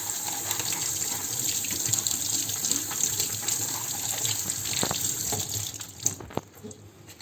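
Tap water runs steadily while a stove burner is rinsed, a constant hissing splash with occasional knocks and clatter near the end.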